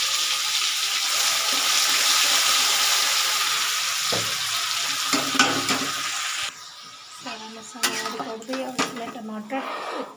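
Spice masala with mustard-seed tempering sizzles loudly in a hot pan for a Bihari-style dish, a steady close hiss that drops partway through as stirring clatters take over, with someone talking over it.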